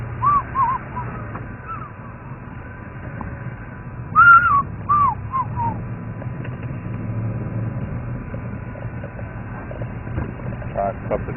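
African fish eagle calls ring out in short bursts across a Thornybush Nature Reserve safari drive, moderately loud over a low vehicle rumble and a steady background hum.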